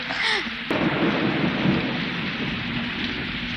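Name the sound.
heavy rain with thunder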